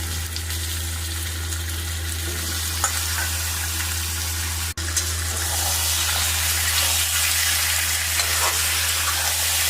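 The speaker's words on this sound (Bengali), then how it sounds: "এই পেঁয়াজটা ভাজা ভাজা হয়ে গেছে, আমি এখন চিকেনগুলো এর মধ্যে অ্যাড করে দেবো" Chicken pieces hitting onions already fried in a hot pan, giving a steady, loud, continuous sizzle with a brief dip midway and small crackles throughout, no voices.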